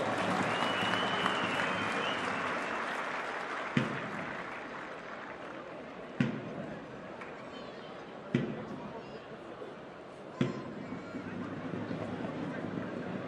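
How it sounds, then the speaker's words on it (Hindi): Crowd applause at a Haryana Police passing-out parade for new recruits, a broad sustained clapping wash from a large outdoor audience, punctuated by several sharp thumps, with voices faintly audible underneath. "तालियां बजाइए जोरदार इन जवानों के लिए"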